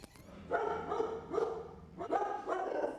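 A working detection dog at the Laredo Port of Entry barks in a quick series of sharp, fairly close barks in three bursts, each followed by whiny yips, with no talk over it.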